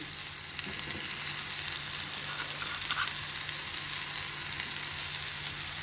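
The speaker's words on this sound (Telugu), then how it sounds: "ఇప్పుడు జీడిపప్పు కూడా వేసేద్దాం." Cashew nuts sizzle and fry steadily in a hot pan for a Bhimavaram-style kaju boondi drumstick masala curry, a continuous close crackle with no voices.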